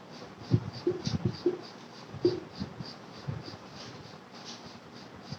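Pen or marker writing during a Java programming lesson on arrays, a series of short scratchy strokes in irregular bursts, close and fairly quiet, with no talk over it.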